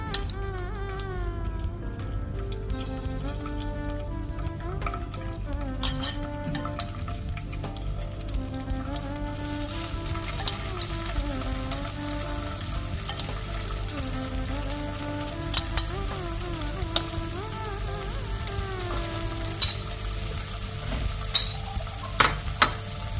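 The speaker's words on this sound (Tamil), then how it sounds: "அதை போட்டு இப்போ ஃப்ரை பண்ணி எடுத்துக்கலாம்" Chicken breast seasoned with turmeric, salt and pepper fries in hot oil, a steady close sizzle running throughout alongside background music, with occasional small pops and clinks.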